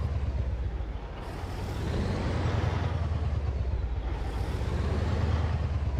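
Deep, steady diesel rumble of a Mack Superliner truck engine in American Truck Simulator on a snowy Million Dollar Highway run, loud and continuous with a broadband roar swelling slightly partway through, no talk.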